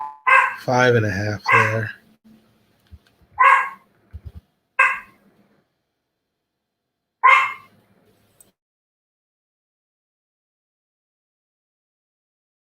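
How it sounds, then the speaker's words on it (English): A small dog yaps near the microphone in several short, sharp bursts, with a quick cluster at the start and scattered single yaps after it. Someone speaks briefly between the barks, and the rest is quiet. "Sorry about my dog yapping."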